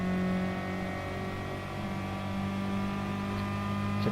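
Volkswagen Golf I GTI race car engine in a Gran Turismo Sport one-make race at the Nürburgring GP circuit, holding a steady, loud droning whine at near-constant revs with no talk over it.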